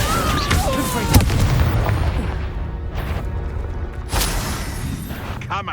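A Confringo blast spell in Hogwarts Legacy erupts in sharp booming explosions among other combat noise, with a heavy crack near the start and another burst about four seconds in.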